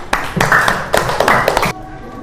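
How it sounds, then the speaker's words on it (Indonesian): A few people clap hands in a classroom lesson, a short close burst of sharp, uneven claps lasting under two seconds before stopping. "beri tepuk tangannya."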